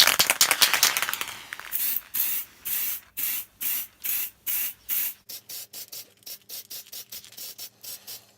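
A finish coat sprayed onto a handmade wooden keepsake football trophy: a long hiss at first, then a regular series of short spray bursts with brief pauses between them, close and fairly loud.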